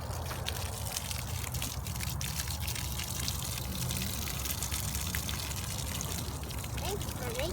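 Water runs and trickles steadily over a Warbonnet Big Mamajamba hammock tarp during an outdoor leak test, a continuous close wash of liquid, with voices faintly in the background.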